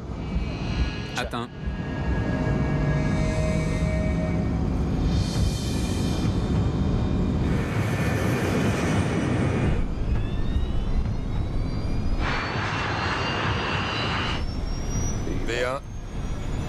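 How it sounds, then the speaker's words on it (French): A Douglas DC-8 jet airliner at Gander airport begins its takeoff roll, a loud steady roar of jet engines filling the whole stretch, with a brief spoken callout over it. "Le DC-8 entame sa course pour le décollage."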